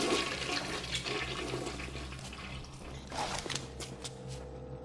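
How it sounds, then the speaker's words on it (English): A toilet flushes in the video game Bioshock, a loud, close rush of swirling water that starts strong and fades over several seconds, with a few drips and gurgles near the end. "You could flush a toilet."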